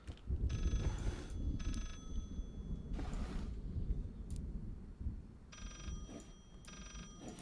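A telephone rings from behind a shelf, repeated bursts of trilling bells in a regular on-off pattern, somewhat muffled and moderately distant over a steady background rumble.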